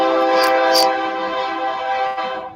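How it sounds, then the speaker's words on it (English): A passing train sounds a loud, sustained horn chord over rumbling, with a person speaking briefly partway through. "I can't do nothing about the train."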